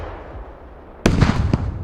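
A Russian heavy RPG rocket launcher fires in the video game Squad, a sudden loud blast with a crackling burst and a second sharp report just after, following a quiet low rumble.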